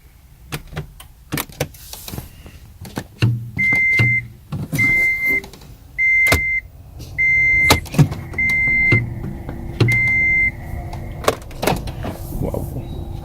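A Toyota Prius is powered on in a series of repeated electronic beeps, about six evenly spaced tones, mixed with clicks, button presses and low cabin hum, heard close inside the car.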